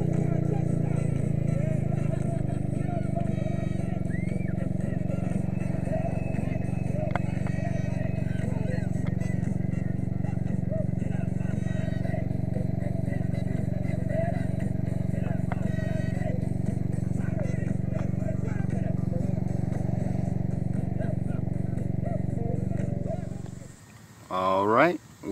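A motorcycle ridden on a warm day drones as a steady, loud engine hum close by for most of the stretch, then cuts off abruptly near the end as the bike stops, followed by brief handling noises.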